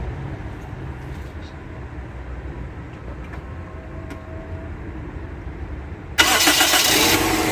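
A Toyota Corolla with a freshly repaired starter carbon brush cranks and catches, a sudden loud start roaring into a steady idle after several seconds of quiet low engine-bay ambience.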